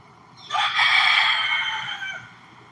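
A rooster crows once, loud and close, a single drawn-out call that starts sharply and fades over about one and a half seconds against quiet background.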